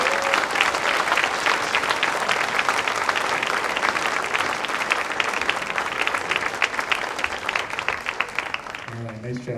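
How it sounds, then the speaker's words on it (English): An audience at a junior high spring seventh-grade band concert gives sustained, dense applause for nearly ten seconds, steady and loud, fading at the end as a speaker begins to talk. "let's give them a big round of applause"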